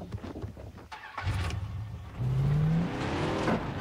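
A car engine in Far Cry 3 turns over and starts, then revs with a rising whine, loud and close, with game ambience around it and no talk.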